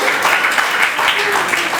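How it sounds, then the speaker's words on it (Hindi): Applause from an audience at an annual day function, honoring the photography team, a steady wash of clapping across the whole stretch, with some voices mixed in. "जबरदस्त तालियां सिमरन के लिए।"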